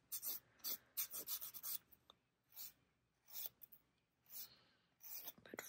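A nail file working along the edges of dip powder nails, short close bursts of scratchy filing separated by pauses, fairly quiet and without talk.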